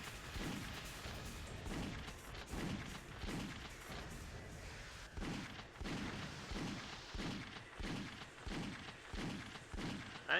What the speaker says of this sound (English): Maybe rattle off a few shotgun blasts while we're at it.